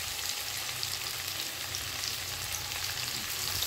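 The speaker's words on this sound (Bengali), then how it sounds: "এবার পেঁয়াজ আর রসুনটাকে একেবারে কড়া করে ভেজে নিতে হবে" Chopped onion and garlic fry in a pan, giving a steady, even sizzle and crackle that holds at the same level throughout, with no voices.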